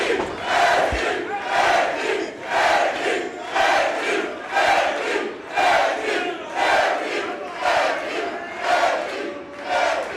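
A capacity crowd at a wrestling event roars and chants in steady rhythmic surges, loud and alone, filling the whole arena.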